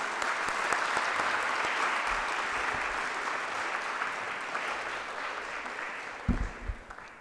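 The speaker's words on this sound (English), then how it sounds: "May I request for another round of applause for them?" An audience at a school opening ceremony claps in a steady, dense wash of applause that holds for several seconds, then thins out with a few last claps and thumps near the end.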